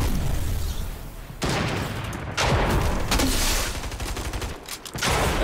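Dense, loud Fortnite gunfire, close bursts of rapid shots broken by brief pauses, with booming impacts layered over one another and no talking.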